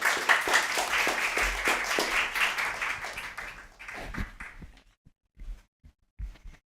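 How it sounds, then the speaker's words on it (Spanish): Audience applause welcoming a presenter to the stage at a MapBiomas Agua presentation in Chile, a dense round of clapping that thins out after about four seconds into a few scattered claps and taps. "Recibimos con un aplauso, por favor"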